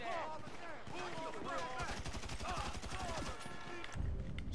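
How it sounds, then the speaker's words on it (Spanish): Rapid bursts of gunfire in the video game GTA 5 rattle in dense repeated volleys over several seconds, mixed with other game sounds and a heavy thump near the end. "vamos a seguir disparando aquí a los amigos del barrio"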